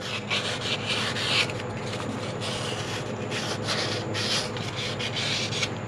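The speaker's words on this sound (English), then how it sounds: "Just passing over 2 or 3 times with a piece of sandpaper, you can really feel the difference on a sharp edge." Sandpaper rubbed by hand over the sharp edge of a metal bearing, a steady close scratchy rasp that runs throughout with small swells in each stroke and no voices.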